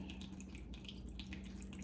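Water runs through a filter bowl in a steady, soft trickle with faint dripping, close and continuous over a low background hum.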